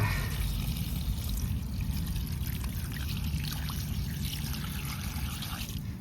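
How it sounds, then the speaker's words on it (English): Water poured from a pot into a small outdoor puddle makes a continuous trickling, splashing flow, close by and steady, with no talking. "So maybe I can take another bit of water and add to the other puddle."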